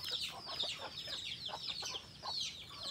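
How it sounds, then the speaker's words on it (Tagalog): Chicks give soft, rapid peeping and clucking calls in a busy overlapping chatter, heard faintly and continuously outdoors. "So ayan yung mga sisiw."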